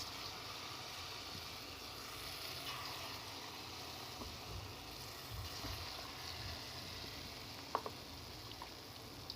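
Bottle gourd batasa frying in a wok over low heat, giving a steady soft bubbling hiss of oil that runs continuously at moderate level, with a couple of faint clinks near the end.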